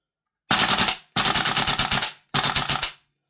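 A VFC AV74M airsoft rifle fires on gas in semi-auto, giving three loud, close bursts of rapid sharp cracks separated by brief gaps, with no talking.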